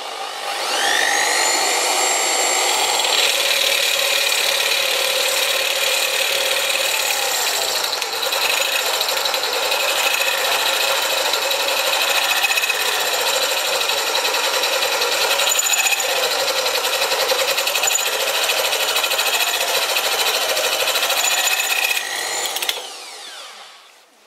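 A metal lathe drills a cross hole, giving a steady high-pitched machining whine with multiple sustained tones that runs continuously at close range for over twenty seconds before cutting off near the end.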